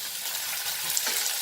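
Onions sizzling in a hot pan while cooking a Goan beef roast, an even, continuous frying hiss that stays close and level throughout.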